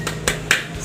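Children in a microteaching classroom doing a rhythmic group clap: three sharp, evenly spaced claps in quick succession, close and crisp.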